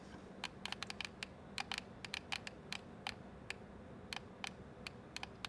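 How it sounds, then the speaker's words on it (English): Button clicks on an EasySMX M20 mobile gaming controller, a quick series of crisp, close, light taps in irregular bursts, each click sharp and short over a quiet background. "I want you to listen to the clicks on this."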